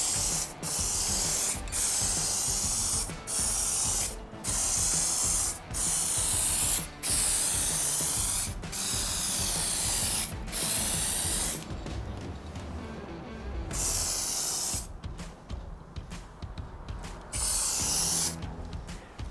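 Steady hissing bursts of a spray gun coating a Toyota 4Runner with paint before clear coat, each pass loud and continuous, broken by short regular pauses, with no talking.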